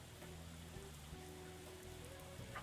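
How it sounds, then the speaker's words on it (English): Steady rain falls in the video game Persona 5 X, a soft continuous patter with faint musical tones underneath and no talking. "it's raining still"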